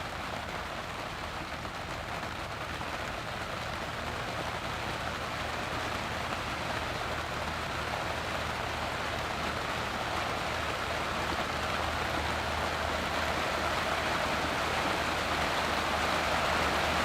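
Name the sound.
rain shower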